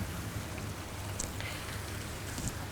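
Steady morning rain falls outdoors as a soft, continuous hiss with faint scattered drops, fairly distant and even throughout, with no voices over it.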